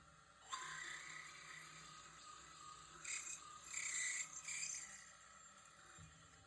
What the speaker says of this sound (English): Next, I go through with a 3/16 inch drill.